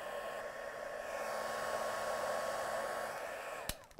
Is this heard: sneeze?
no